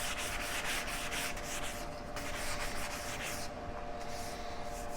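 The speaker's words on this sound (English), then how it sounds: "So let's get this thing rubbed down." Sandpaper rubs back and forth over a lightly torched wooden axe handle, giving a steady, close, gritty scratching in quick repeated strokes without any talking.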